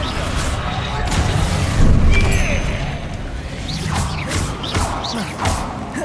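Bombarda spell blasts in Hogwarts Legacy rumble under steady combat noise, with heavy low booms, crashes and whooshes rolling through the scene and a voice talking over the fight.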